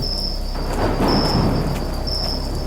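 Rain and wind from a story scene on a cold winter night, a steady broadband wash of rainfall with gusty rushing swells and low rumbling, loud and continuous with no voices.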